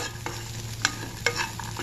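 Spice tempering with asafoetida in hot oil, a steady low sizzle close up, punctuated by a few sharp clicks and scrapes of a spoon against the pan.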